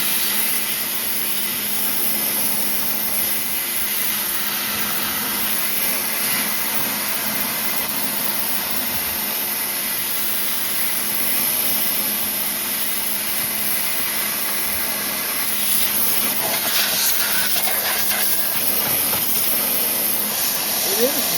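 A pressure washer rigged as a sand blaster sprays steadily in a broad, continuous hiss with a low rumbling undertone, holding a fairly even level throughout with slight surges near the end.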